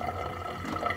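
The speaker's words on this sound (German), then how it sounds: "das Wasser läuft noch ein bisschen nach" Water keeps trickling from a reverse osmosis drinking water tap on a three-way kitchen faucet after it is turned off, a soft, close, steady running sound with faint drips and no speech.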